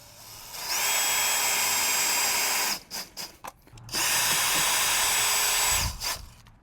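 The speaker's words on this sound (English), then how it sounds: "just putting some screws in along the way" A power drill drives screws into a Power Wheels toy car tire, making two long, steady high-pitched whirring runs split by a short stuttering burst, close and loud with no talking.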